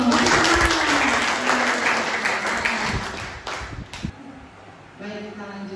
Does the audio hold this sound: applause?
yes